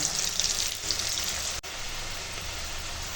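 Whole spices and onion hit hot oil in a pan, giving a loud, steady close-up sizzle and crackle that runs unbroken through the clip, with one brief dip midway.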